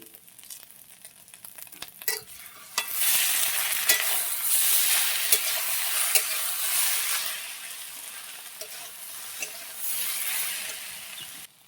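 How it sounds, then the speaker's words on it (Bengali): Garlic and nigella seeds frying in a pan, a steady loud sizzle with stirring scrapes and brief clicks that swells after a couple of seconds and carries on without talk. "লাল লাল করে ভাজা হয়ে গেছে, এবারে কালো জিরে দেবো।"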